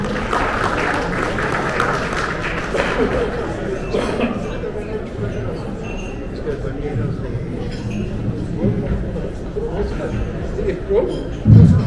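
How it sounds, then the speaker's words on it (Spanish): Audience at a business seminar in Ecuador applauding a speaker, sustained clapping blended with crowd chatter and murmuring voices that carry on throughout. "Un aplauso para él."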